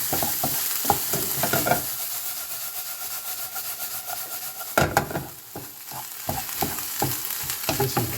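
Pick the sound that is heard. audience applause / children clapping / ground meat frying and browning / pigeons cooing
ground meat frying and browning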